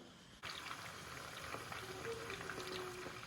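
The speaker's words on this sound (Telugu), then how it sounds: "ఆయిల్ హీట్ అయినాక కీమా బాల్స్ వేయాలి." Mutton keema balls land in hot oil with a sudden onset, then a quiet, bubbling sizzle that carries on evenly at close range.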